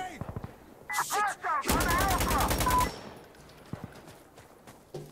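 Rapid automatic gunfire in Insurgency Sandstorm rattles out in two close, loud bursts, the second a long string of evenly spaced shots, followed by quieter scattered sounds and brief speech.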